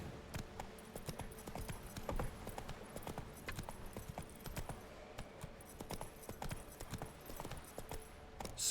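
Roach, the horse in the video game The Witcher 3, trots with fairly faint, steady, rapid hoof clops throughout, a light jingle of tack mixed in.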